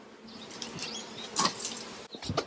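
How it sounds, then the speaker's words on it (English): Honeybees hum in a steady mass buzz while a hive is being smoked and inspected, with individual bees rising louder as they pass close, otherwise a continuous moderate drone. "I'll hear a lot of buzzing up top when I smoke them"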